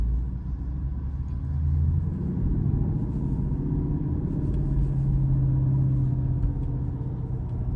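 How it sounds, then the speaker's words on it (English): A manual-transmission car coasts through a turn in first gear during a driving lesson, a steady low engine rumble and road drone continuing throughout at an even, moderate level. "Taking a turn, coasting in first gear."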